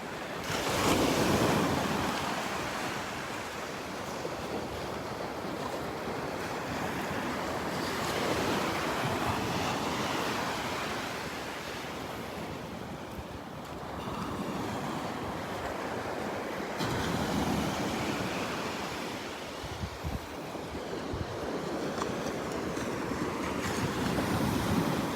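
Ocean surf washes steadily onto a beach at Delnor-Wiggins as the tide comes in, a continuous broad roar of breaking waves with gusts of wind buffeting the microphone throughout and no voices.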